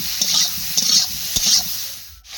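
Cauliflower pieces are stirred and fried in hot oil, a close crackling sizzle broken by three or four scraping strokes of a spatula in the pan.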